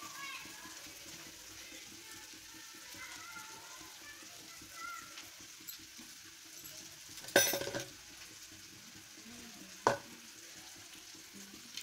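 Onions for a samosa filling are stirred in a pan, giving a steady soft sizzle with scraping and stirring noises, plus a couple of sharper clatters of the utensil near the end.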